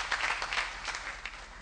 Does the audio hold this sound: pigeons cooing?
no